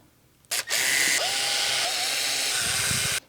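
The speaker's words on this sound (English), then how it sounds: "Let me just put these 4 screws back in." A power drill driving screws back into the casing of a Multi-Process welder, one continuous loud whirring burst of a few seconds that starts abruptly and cuts off cleanly, with a brief start before the main run.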